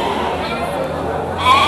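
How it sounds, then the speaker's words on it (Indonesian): Garut sheep bleat at an open sheep market, a sustained nasal bleat filling the short stretch over steady crowd and market background noise. "seperti yang depan saya ini domba petetan semuanya"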